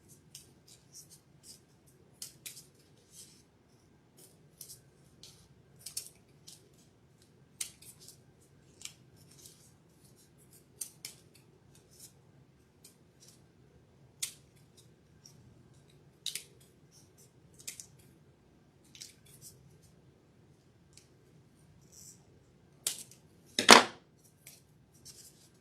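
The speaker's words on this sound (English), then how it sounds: "now I'm going to go through and trim a little bit." Scissors snip through craft foam in small, scattered cuts while trimming a Little Mermaid figure, quiet and close, with one louder, sharper snip near the end.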